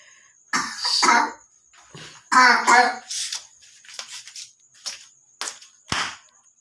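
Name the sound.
cough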